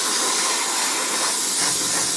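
A continuous, loud, close spray hiss of grey primer mist-coated from a can or airbrush onto a plastic 1/35 scale Takom Chieftain Mk10 tank model, steady with no breaks.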